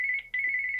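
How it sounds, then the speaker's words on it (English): A phone ringtone sounds during a live singing-lesson broadcast, a steady electronic tone with a brief break partway through, loud and close, with no talking over it. "And that's a phone call"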